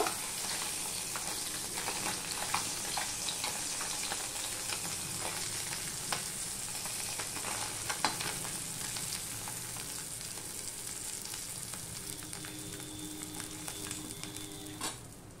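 Bata fish fries in oil in a pan, giving a continuous close sizzle with bubbling and occasional scraping stirs that runs on steadily throughout.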